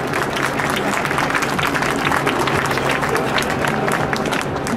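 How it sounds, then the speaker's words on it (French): Audience applauding at a blessing ceremony for the Saint Michel - Virbac racing boat before the Transat Jacques Vabre, a steady, dense clapping held at an even level from start to finish, with crowd murmur mixed in. "Vous remarquerez que parmi les personnes qui applaudissent"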